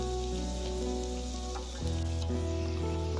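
Chopped ginger and garlic hit hot oil in a pan for a chicken curry, giving a continuous close hiss that swells slightly as they are added, with no talking.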